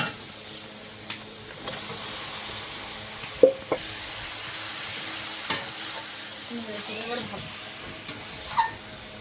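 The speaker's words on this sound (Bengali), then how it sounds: "মশলাটা কষানো হয়ে গেছে এবারে মাংসটা দেবো" Chicken in a thick spice masala fries in a pan for a Bengali curry, giving a soft, steady sizzle with sparse sharp utensil clicks and faint background sounds.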